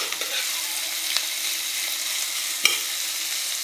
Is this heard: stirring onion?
yes